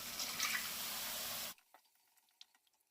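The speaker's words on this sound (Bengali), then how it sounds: "এবারে মিক্সিতে মশলা ধোয়া জলটা আমি এর মধ্যে মিশিয়ে দেব।" Water rinsed from a mixer jar with masala pours steadily into a pan for about a second and a half, then stops abruptly, leaving faint drips and small splashes.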